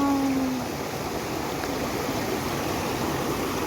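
Water rushing steadily in a khola, a small river or stream, with a loud and constant broadband wash that holds even across the whole stretch, with no speech over it.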